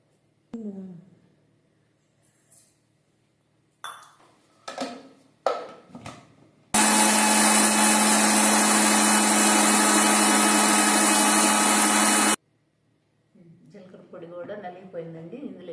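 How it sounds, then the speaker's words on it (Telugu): A kitchen mixer grinder whirring loudly and steadily for several seconds while grinding chana dal powder with cumin seeds, with someone talking before and after. "ఈ జీలకర్ర మెదగాలంటే కొంచెం అడుగున శనగపప్పు పొడి వేస్తున్నానండి తర్వాత జీలకర్ర వేసుకొని మిక్సీ పట్టుకోవాలి"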